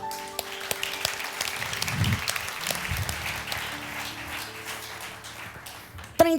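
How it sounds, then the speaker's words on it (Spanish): A church congregation applauds a pastor's call for a loud round of applause to the Lord, a dense, sustained wash of clapping lasting throughout with faint background tones and a sharp sound at the very end. "Y me den un fuerte aplauso a su Señor"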